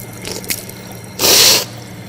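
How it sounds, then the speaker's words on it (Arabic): Water during wudu ablution while rinsing the nose, with a few small drips and splashes and then one brief, loud gush of water lasting about half a second, close by. "ثم استنشاق الماء ثلاث مرات في الأنف"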